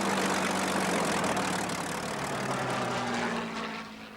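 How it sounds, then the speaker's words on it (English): A Spitfire's Merlin piston engine roars steadily and fairly close at a wartime airfield, a rich propeller drone that eases off slightly near the end. "reverberating to the roar of the Spitfire's Merlin engines"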